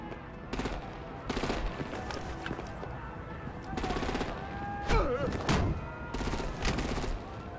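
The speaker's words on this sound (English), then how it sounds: "Break out the artillery and disable their vehicles!" Gunfire aimed at vehicles in Batman: The Enemy Within, coming in several loud, rapid automatic bursts separated by short pauses. Game ambience, whooshing effects and brief voices sit between the bursts.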